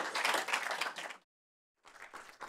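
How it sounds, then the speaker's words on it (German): Audience applause for director Axel Ranisch at a film preview screening, a burst of clapping that cuts off abruptly, a brief silence, then a second round of clapping. "Und jetzt erstmal nochmal großen Applaus."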